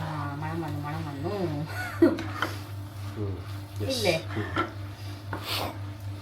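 Pad thai noodles tossed with sauce in a pan, with intermittent metallic scrapes and clinks heard under a person talking, over a low steady hum.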